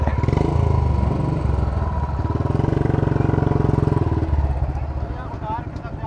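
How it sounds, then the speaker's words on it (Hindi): A motorcycle on a Sunday group ride with friends runs with a loud, steady, throbbing engine note that shifts in pitch partway through, as if it is revving or moving off, with voices nearby. "बाइक चली जा बाइक।"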